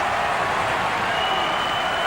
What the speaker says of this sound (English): Applause from the spectators